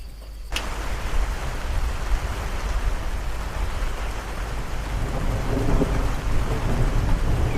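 Heavy rain and hail pound down steadily as a spring storm passes over a backyard rabbit hutch build, with a loud thunder crack near the start and a dense, continuous roar of falling water throughout.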